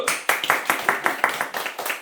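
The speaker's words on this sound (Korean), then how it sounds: "오늘 박수 한번 치고 우리 홍 선생님 오늘 마지막 박수" A class in a social work practicum orientation lecture claps in unison for a teacher, about ten sharp, evenly spaced rhythmic claps close by.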